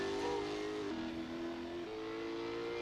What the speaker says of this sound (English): I think we should listen to the engine more. We can. It's a V8.